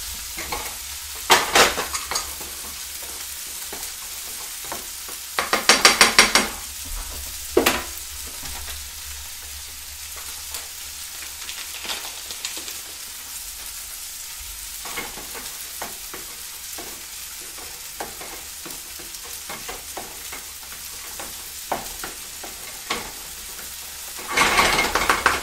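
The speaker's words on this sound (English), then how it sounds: "Let me stir the rice" Rice sizzles steadily in a pan while a utensil stirs and scrapes it, with a few louder clattering bursts of stirring against a constant frying hiss, close and alone without talk.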